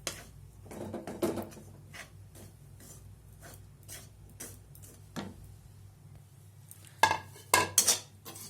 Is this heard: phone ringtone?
no